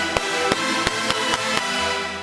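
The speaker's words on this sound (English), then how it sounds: "which would create a click, which sounds like this" Sharp clicks pop out about every third of a second on top of a dense sustained synth tone, a glitch caused by a dry signal layered over itself in a reverb chain.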